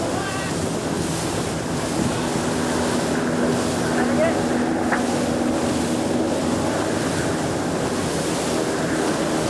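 Onboard the racing yacht Ericsson at sea, a steady, loud roar of rushing water and wind noise buffeting the microphone continues without a break, with faint low engine-like hum beneath.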